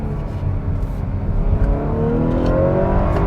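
A 2021 Honda Accord Touring 2.0T with a 10-speed automatic accelerates hard, its turbocharged engine droning and rising in pitch as it pulls through the gears, heard from inside the car.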